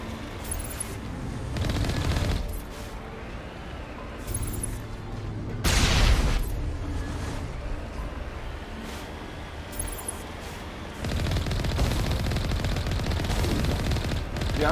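Gunfire in Mass Effect Legendary Edition: repeated bursts of automatic weapon fire with heavy booming impacts, a loud blast near the middle, continuous and dense with no clear talk over it.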